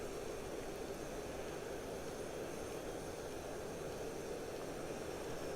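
A Mirage F1 jet engine roars steadily in the DCS flight simulator as the aircraft dives toward an airfield, a constant broadband rushing hum with no variation and no voices.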